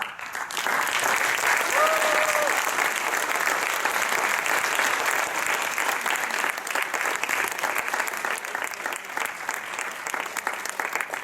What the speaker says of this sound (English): I need a huge applause so that I can get Jantje